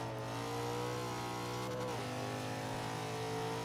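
Nissan Silvia Spec R engine in a Forza 5 lap, droning loud and steady at high revs, with a brief dip and pitch drop on a gear change or lift before climbing again.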